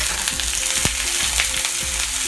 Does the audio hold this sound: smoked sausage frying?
yes